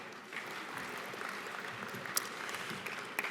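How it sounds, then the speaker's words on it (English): Luncheon audience at a Scouting award event applauding the color guard, a moderate, even round of clapping that carries on throughout with a couple of sharper claps near the end. "a great round of applause for our color guard"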